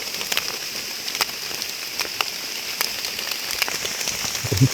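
Steady rain falls through a forest, patter on leaves and ground with scattered louder drops, heard alone without voices.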